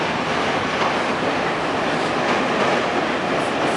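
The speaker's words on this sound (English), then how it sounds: "You see the L train going by again." An elevated L train in downtown Chicago rumbles past steadily and loudly overhead, a continuous broadband roar with faint rhythmic clatter throughout.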